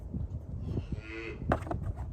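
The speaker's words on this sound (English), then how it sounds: "That's not me, I promise. That's the cow." A cow moos outdoors on a farm with a young calf nearby, a single drawn-out low call rising in the middle of the clip, fairly close and loud over steady outdoor background noise.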